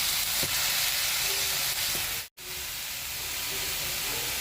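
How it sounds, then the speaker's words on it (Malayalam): Vegetables for a restaurant-style veg soup sauté in a pan with vinegar and soy sauce, giving a steady steamy hiss and sizzle with faint stirring, broken by a brief silent gap midway. "കുറച്ച് വിനിഗർ, 1 ടേബിൾ സ്പൂൺ വിനിഗർ എല്ലാം കൂടിയിട്ട് നല്ലതുപോലെ വഴറ്റാം."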